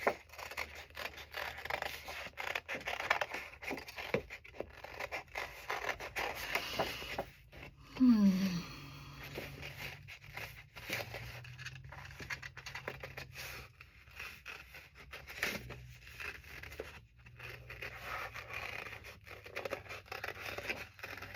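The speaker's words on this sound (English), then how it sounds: "Okay, now I can cut it out." Scissors cutting out a paper folder cover, a soft, close snipping and rustling that comes in short runs with pauses, faint in a quiet room.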